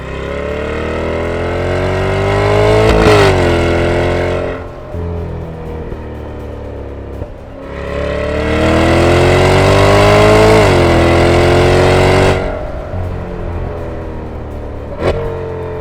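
Chevrolet Corvette E-Ray V8 engine revving hard on a track, two long loud surges of rising then falling engine tone separated by a lower idle-like lull, close and without speech.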